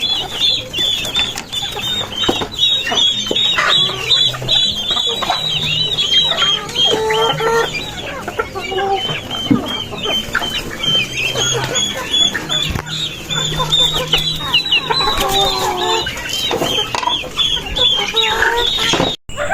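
Chickens cluck and squawk close by as a small chicken fights a big rooster, with busy, irregular calls and scuffling sounds continuing throughout, and occasional faint talk in the background.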